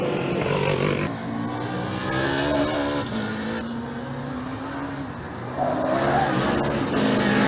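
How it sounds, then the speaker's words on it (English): A Formula Student race car passes during an endurance event, its engine revving in rising and falling harmonic sweeps as it accelerates, shifts and goes by close, loud against a busy outdoor track background. "The car from Paderborn passes us once again."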